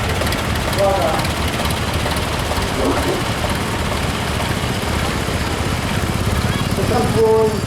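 Tractor engines run steadily in a show arena at a spring fayre parade, a continuous low rumble throughout with a crowd murmuring and a few voices talking over it.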